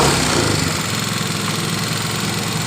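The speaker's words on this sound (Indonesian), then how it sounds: "Coba kita elektrik starter," A Yamaha Mio scooter engine, hot from running, idles steadily after an electric start, a close, loud, continuous mid-pitched thrum with a fast even pulse and no talk over it.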